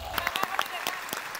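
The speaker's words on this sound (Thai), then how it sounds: "ขอเสียงปรบมือ" Short burst of audience applause on a children's singing audition show, with scattered individual claps under a host's speaking voice.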